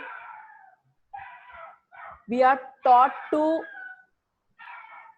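Outdoors, a dog gives three loud barks in quick succession partway through, with someone speaking indoors before and after.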